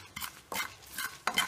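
Coconut, chilli, coriander, cardamom, clove, cinnamon and pepper being roasted and stirred in a pan, heard as three or four brisk scraping strokes with a light dry sizzle, close and fairly quiet, with no talking.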